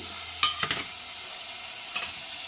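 Potatoes tossed into a hot oiled pan for Mumbai street-style pav bhaji, a sharp clatter on entry followed by a few stirring knocks over a steady close sizzle, no talking.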